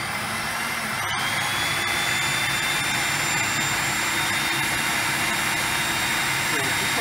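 A mixer running at high speed through thick, hot fruit paste for Persian lavashak: a loud, steady motor roar and whine that holds constant for several seconds, close by.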